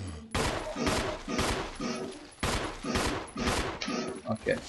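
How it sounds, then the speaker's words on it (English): Gunfire at a zombie in the Resident Evil remake video game, about seven loud, evenly spaced shots, each with a short echoing tail, closely recorded. "You have to shoot him in the head, Jill!"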